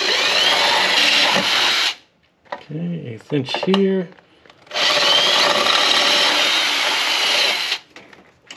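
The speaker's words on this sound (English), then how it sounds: "So I'm gonna drill out the rest of this." A power drill with a 1/8 inch bit bores out a hole during a line lock install on a 2004 GTO, two loud sustained bursts of drilling separated by a short spoken pause.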